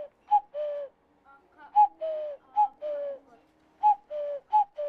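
A repeated two-note cuckoo call, clear and fairly close, sounding in a steady rhythmic pattern several times against a quiet background.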